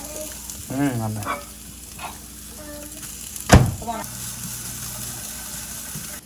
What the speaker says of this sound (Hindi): अभी हमारा जो है प्याज जो है पक रहा है